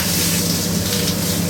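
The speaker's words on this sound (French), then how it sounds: "On le laisse bien marquer en cuisson." Poultry searing in a hot pan, seasoned with salt only, crackles in a steady, loud, close sizzle that never lets up, with a faint low hum beneath it and no voices.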